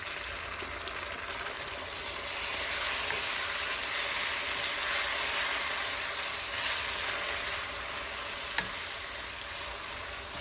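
Noodles stir-frying in a hot pan, a loud, steady close sizzle with scraping and tossing throughout and a single sharp clink near the end, no talking.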